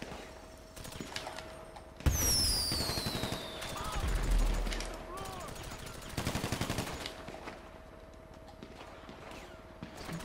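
Heavy automatic gunfire in GTA 5 Online, long rapid bursts of close machine-gun fire hammering across most of the stretch, with a loud onset and short pauses between volleys, mixed with game effects.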